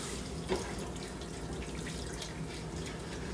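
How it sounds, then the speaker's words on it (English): Beef broth poured into a pan while cooking Swedish meatballs: a steady, even liquid splash and trickle runs alone for about three seconds, with a faint knock near the start. "we're gonna add my beef broth"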